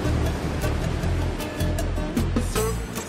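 Pacific Ocean waves rolling in at Waikiki Beach on Oahu, a steady, loud wash of surf with continuous roar and a few brighter breaking swells, no voices.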